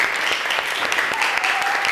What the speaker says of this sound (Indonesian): ya kita kasih tepuk tangan